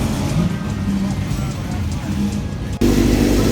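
Classic car engine revving at the Tour Auto rally, a loud deep rumble that holds steady and then surges louder near the end, close by, with people talking over it.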